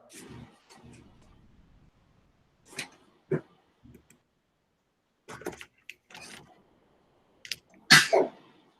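A single sharp sneeze from someone in an online class session, loud and abrupt near the end of an otherwise quiet stretch with scattered soft noises before it.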